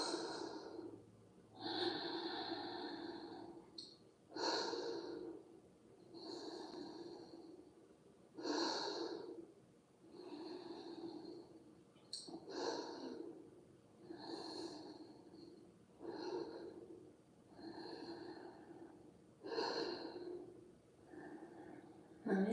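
Slow, deep conscious breathing during a yoga session, long audible inhales and exhales repeating in a steady rhythm roughly every couple of seconds, close and breathy with a slight nasal rasp, no talking over it.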